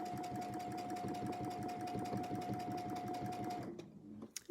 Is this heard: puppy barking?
no